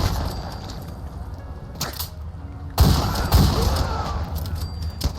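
Sawed-off shotgun in Fallout VR firing two heavy booming blasts a little over half a second apart, close and loud, over a low rumbling game background.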